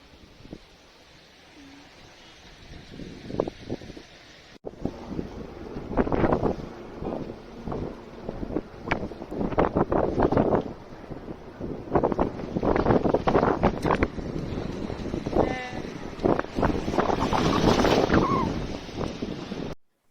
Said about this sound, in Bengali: এই দেখো কত হাওয়া